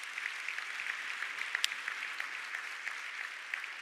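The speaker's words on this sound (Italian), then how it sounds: "Grazie e l'applauso della sala." An audience in an awards hall at a 2024 economy and development prize ceremony applauds steadily, a moderately faint, even patter of many hands with no speech over it.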